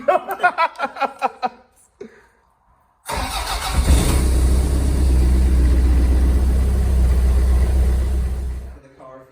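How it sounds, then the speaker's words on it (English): Toyota MR2 cold start: a brief cranking burst, then the engine catches and settles into a loud, steady, rumbling idle that holds for several seconds before cutting off, with chatter and laughter before the start. "Brandon wants to do a cold start"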